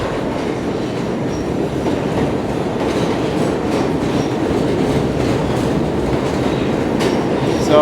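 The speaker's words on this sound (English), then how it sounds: "So this is downtown in Brooklyn via Broadway Express on the Q train." Steady rumble and clatter of a New York City subway Q train running Broadway Express toward downtown Brooklyn, a loud continuous wheel-and-rail roar filling the whole stretch with no talking.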